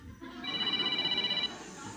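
A mobile phone rings out at an indoor church gathering, a repeating electronic ringtone that sounds for over a second and then cuts off, while voices and room noise murmur faintly beneath it.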